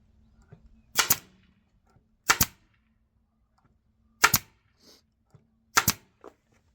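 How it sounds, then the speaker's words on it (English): Four sharp staple-gun shots fastening planter box pieces from the underside, each a crisp close snap with quiet gaps between them. "I like to also staple the two pieces from the underside"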